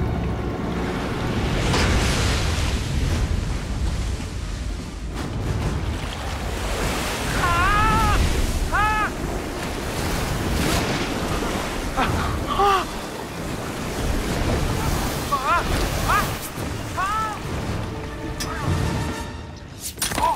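Ocean waves surge and crash in a movie scene, loud and continuous with wind buffeting, interrupted by short high squeaky cries and rumbling swells, with no dialogue heard.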